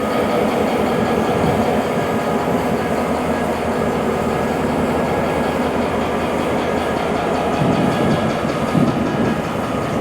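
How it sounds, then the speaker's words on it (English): CSX Franklin switcher locomotive running with its engine idling, a loud continuous diesel rumble with a low throb and faint rattles, steady and close throughout with no voices. "This is the Franklin switcher. You can see he's just running right now."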